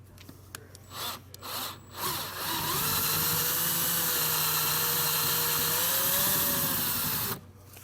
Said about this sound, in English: So when drilling these out, just aim for the middle.